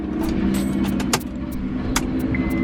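A right-hand-drive Honda's engine turns over and runs with a steady low drone, punctuated by a few sharp clicks and a jingle of keys, heard close up from inside the car.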